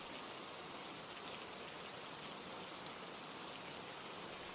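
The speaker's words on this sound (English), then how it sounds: "the rain outside tapped gently against the windows" Steady rain patters against windows in a dense, even hiss with no pauses, soft and constant throughout, with no voices.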